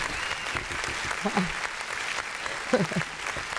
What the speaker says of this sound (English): I love the clapping. I look for the applause